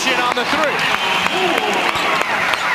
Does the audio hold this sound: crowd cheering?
yes